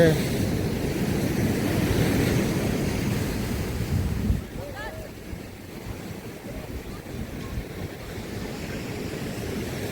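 Ocean waves wash ashore at Kokolem beach at sunset, a steady broadband surf rush mixed with wind buffeting the microphone, louder for the first four seconds and then calmer, with a few faint high tones.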